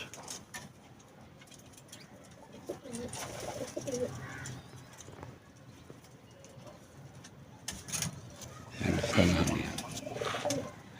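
Teddy pigeons coo softly in bursts, with a louder flurry of calls near the end, under faint background voices.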